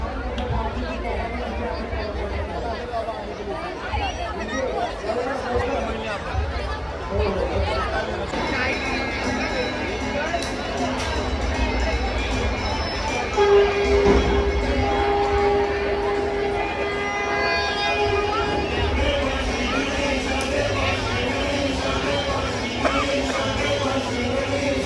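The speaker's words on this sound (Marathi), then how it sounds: "आता गर्दी बघ किती झाली" Crowd chatter at a Diwali Pahat morning gathering at Talavpali lake in Thane, a dense continuous murmur of many voices with occasional nearer speech and a passing tonal sound midway.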